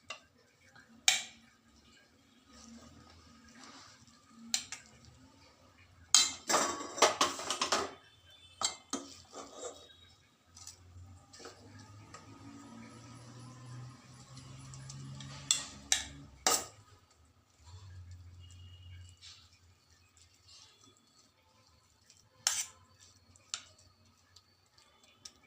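Freshly steamed sorekaayi (bottle gourd) idlis are set onto a plate, giving soft, sparse clinks and knocks of the plate and utensils in a quiet kitchen, with a couple of sharper taps near the middle.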